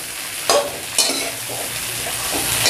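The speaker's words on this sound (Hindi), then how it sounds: "तेल गर्म हो गया है तो कटहल डाल देते हैं।" Jackfruit pieces dropped into hot mustard oil in a kadai, with a steady bright sizzle and crackle broken by a couple of louder spattering bursts as pieces hit the oil.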